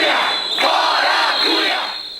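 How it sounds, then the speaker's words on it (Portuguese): A crowd of protesters loudly boos and shouts at the president of the Chamber of Deputies at a public event in Porto Alegre, a dense, sustained roar of many voices that swells and then slowly fades. "Câmara dos Deputados, Eduardo Cunha, foi vaiado no início do evento."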